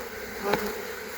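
Honeybees buzzing inside an open, active Langstroth hive during an inspection, a steady dense drone that swells briefly in the middle, close and alone with no talk.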